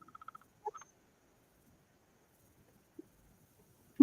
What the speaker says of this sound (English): Can you hear that tapping noise?